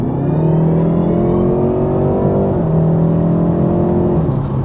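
A BMW 330e Touring hybrid in sport mode accelerates after a downshift, its engine note climbing loud and close, then dipping at a gear change and rising again.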